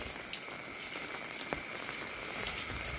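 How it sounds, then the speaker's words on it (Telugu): Steady rain falling outdoors in a village, a soft, even hiss with scattered faint drop taps, heard alone with no talking. "వర్షం పడుతుంది"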